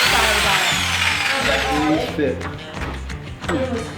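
A power drill whirs steadily, loud and close, driving a honey extractor centrifuge, with a rhythmic mechanical thumping underneath as it spins; the motor's pitch wavers slightly.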